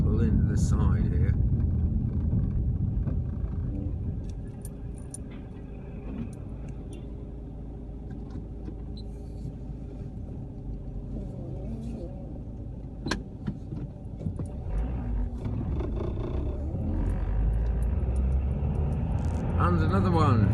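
Car interior rumble as a great big lorry approaches and passes on a narrow road, a low engine drone swelling near the end, with someone talking over it throughout.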